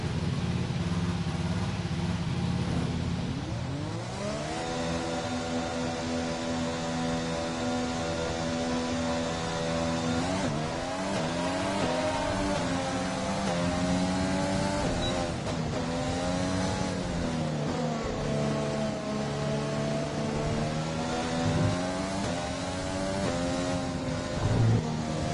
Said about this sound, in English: Engine fired, we're set.